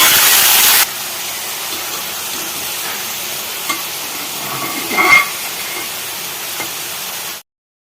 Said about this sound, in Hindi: तेल गर्म होने के बाद राई डालूँगी, फिर करेला डालूँगी।